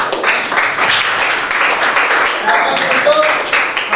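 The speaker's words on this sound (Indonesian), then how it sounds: "Beri tepuk tangan untuk kelompok 1." A classroom of students claps for a student group after its presentation, a dense, steady patter of many hands close by, with faint voices mixed in and a few brief tonal sounds near the end.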